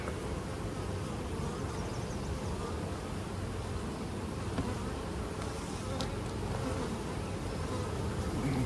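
Honey bees buzz continuously around an open beehive during an inspection, a dense, steady drone that is close and fairly loud with no speech.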